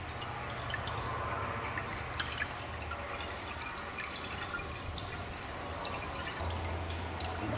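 Pure antifreeze pours from a container into the radiator of a Ford Crown Victoria, a faint steady trickle with a few drips under a constant low hum, no voices.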